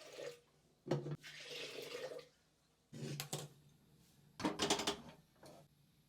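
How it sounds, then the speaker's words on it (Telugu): Water poured from a tap or vessel onto washed pigeon pea lentils (toor dal) for boiling, Telangana-style home cooking; splashing bursts alternate with steadier pouring and running water, fairly faint and close, with no talk. "ఇప్పుడు కొన్ని వాటర్ పోసుకొని ఉడకబెట్టుకుందాం"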